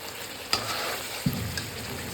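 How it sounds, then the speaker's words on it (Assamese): Chicken pieces fry in oil in a karahi with a steady, close hiss and sizzle, broken by a couple of sharp clinks and stirring scrapes, with no one talking. "ইয়াতে কেৰাহীত মাংসটো ভাজি লৈছোঁ"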